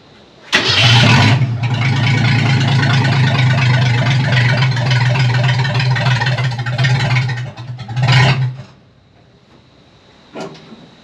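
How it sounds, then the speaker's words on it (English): An old Ford Econoline van with no exhaust cranks and fires up, its engine running loud, raw and tractor-like for several seconds before cutting out, followed by a short second burst and a faint later thump. "It sounds like a little tractor, but we'll build an exhaust for it next."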